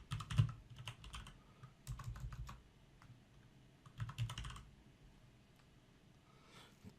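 Brisk typing on a computer keyboard while filling in a Word table, with bursts of clustered key clicks separated by short pauses, close and fairly quiet.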